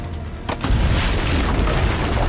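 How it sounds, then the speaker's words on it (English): Cannon fire from ramparts in Assassin's Creed: Brotherhood, a loud booming blast rolling into a sustained heavy rumble of battle noise with no talk. "Use the cannons above the rampart."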